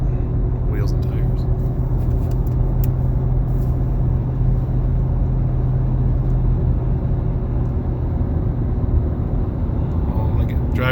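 Steady low rumble of a 2014 Ford F150 Tremor pickup driving while warming up, a constant engine and road drone heard from inside with faint clicks above it.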